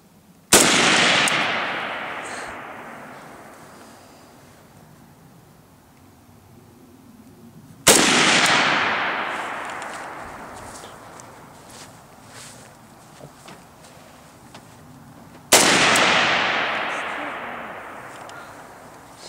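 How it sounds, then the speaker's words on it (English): AK-47 rifle firing three single loud gunshots, each a sharp crack followed by a long echoing decay, spaced about seven to eight seconds apart. "AK-47, world's most popular weapon."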